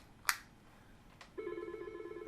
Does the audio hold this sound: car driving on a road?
no